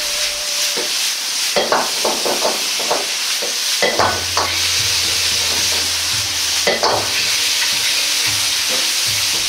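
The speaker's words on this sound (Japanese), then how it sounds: "水分が少なくなってきたらタケノコにタレを絡めるように混ぜ合わせていきます。" Bamboo shoots stir-fried in oyster sauce sizzle steadily in a pan while a spatula scrapes and clacks in irregular bursts, close and fairly loud, with no talking.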